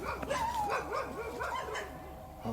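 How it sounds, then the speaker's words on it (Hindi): Dogs bark and whimper in a repeating, wavering series, fairly distant and thin, with faint voices now and then in the background. "आवाज अगर यहाँ कुत्तों की आ रही है"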